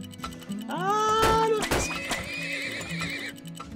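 Horses in the video game Turmoil give a loud, close neigh with a rising, wavering whinny, over a low rhythmic thumping and clip-clop in the background.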